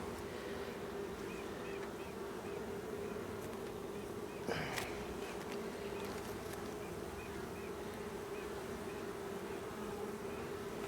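Honey bees from a hive in its second brood box buzzing steadily during a September inspection, a dense continuous drone with a brief knock of handling midway.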